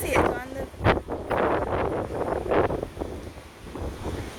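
Heavy wind gusts outdoors in Lethem, roaring and buffeting the microphone in loud surging bursts that rise and fall over a few seconds, close and rough.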